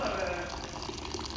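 Water poured into a container at a street food stall selling popcorn and sweet corn, a steady, close splashing rush with people talking over it.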